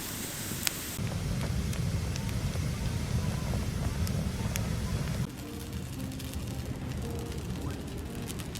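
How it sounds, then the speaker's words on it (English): Steady rain drums on the roof of a Deutsche Post delivery van in heavy wet weather, a dense continuous patter close by that shifts slightly in tone midway. "It's wet and rainy here"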